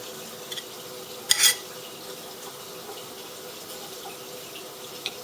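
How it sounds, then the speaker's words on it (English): Two cheeses being stirred together in a bowl for a Puerto Rican lasagna, heard as one brief scraping, mixing burst between faint clicks in a quiet kitchen. "You want to mix this up together"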